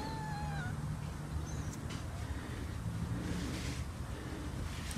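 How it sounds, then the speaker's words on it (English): A young cat meows outdoors on a wet walk, a few thin rising cries near the start over steady wind and rain noise, with no talking. "There's a cat on the way back."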